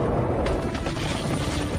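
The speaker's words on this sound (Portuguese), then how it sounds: "Todos os helicópteros decolem agora!" Helicopters lift off in a disaster film about an earthquake and a tsunami, a dense, steady rotor roar that fills the short stretch at constant loudness, with a rattling mechanical texture and no speech.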